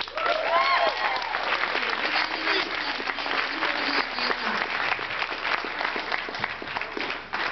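An audience applauds at the Mr. Toppenish 2009 pageant for the Mr. Congeniality winner, a sustained, loud crowd clapping with scattered cheers and a brief voice in the mix.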